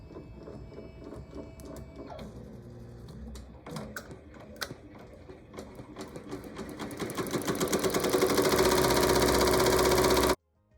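An embroidery machine runs a tack down stitch for an in-the-hoop faux leather bookmark, its needle ticking in a fast steady rhythm that builds louder and denser toward the end before stopping abruptly.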